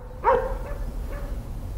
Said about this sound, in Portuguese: Tem um cachorro meio brabo lá, não sei se tá solto, rapaziada.